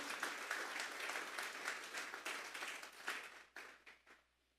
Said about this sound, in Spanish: Vamos a darle la ofrenda de palmas a Dios en esta hora.